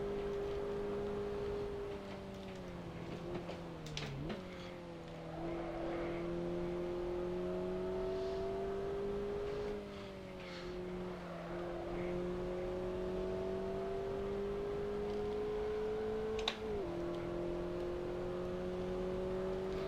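Sustained racing-game car engine in Assetto Corsa Evoluzione, driven through Tokyo city streets, holding a steady drone that dips and climbs with gear changes and throttle lifts, loud and continuous with no talk.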